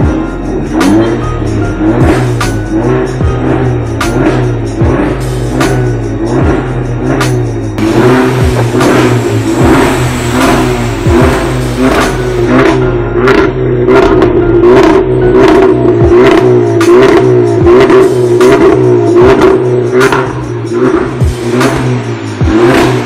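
A VW Golf Mk6 with the 1.4 TSI engine revs repeatedly in loud, close bursts, each rise falling back to a raspy idle, with no talk over it.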